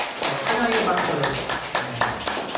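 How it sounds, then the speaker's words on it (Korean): A church congregation claps in thanks and welcome during a Sunday service, a steady patter of many hands of moderate loudness. Voices talk over the clapping. "우리 그 감사의 박수, 환영의 박수"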